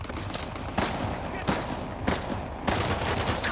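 Bullets fired in the video game Uncharted: The Lost Legacy: several loud, broad gunshot bursts at irregular intervals over a dense, noisy game backdrop.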